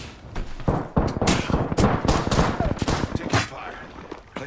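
Video game gunfire, a dense irregular string of loud close shots and bursts, with a voice speaking between them.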